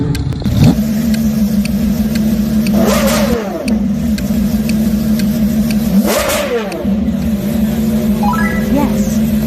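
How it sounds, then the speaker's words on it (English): Gordon Murray T50 hypercar engine revving hard, a loud sustained tone with two sharp rising-and-falling sweeps and a final climbing rev, heard close and continuous. "the sound of analog perfection and engineering genius, the T50"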